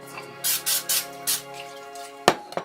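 Several short hissing sprays of cooking oil spray burst out one after another over a low hum, coating a bowl and pizza dough, followed by a sharp clack near the end.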